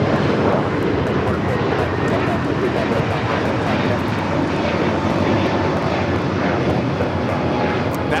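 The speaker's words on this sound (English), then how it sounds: "1875 taking off to Los Cabos on the A321neo" A Delta Airlines Airbus A321neo takes off from Los Angeles airport, its engines giving a loud, sustained, even roar that stays near and constant throughout.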